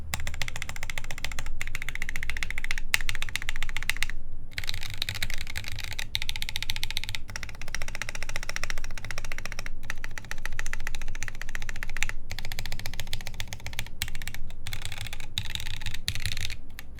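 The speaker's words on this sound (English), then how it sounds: "We can try a GMK spacebar instead." Mechanical keyboard with a GMK spacebar on a TGR Jane v2 build, typed on steadily: dense, rhythmic clacks and thocks run throughout at close range with brief pauses, with no talking.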